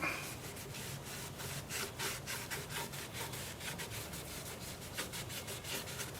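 Steady rhythmic rubbing of 150-grit sandpaper against wood spinning on a lathe, a continuous gritty hiss with regular pulses, close and alone.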